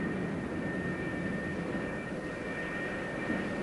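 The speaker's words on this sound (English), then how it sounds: "another pair of Phantoms taxis up for launch" F-4 Phantom II jets taxi on an aircraft carrier flight deck toward the launch spot, a steady, broad jet-engine roar with a faint whine, continuous and unbroken with no voices.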